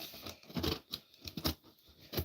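Scissors snipping and tearing open a package, a quick series of close, quiet cuts and rustles with no talk.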